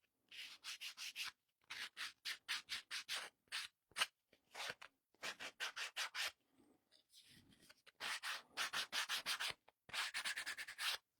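Sandpaper scuffs the painted surface of a DIY Christmas door hanger in quick, close bursts of rhythmic back-and-forth rubbing strokes, separated by brief pauses.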